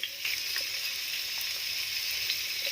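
Cut potatoes fry in a pan for a spicy potato chorchori, giving an even, dense sizzle close up with a few light stirring clicks through it.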